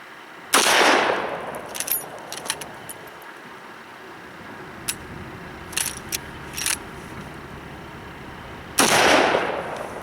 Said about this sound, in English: So I'm going to pop off a couple rounds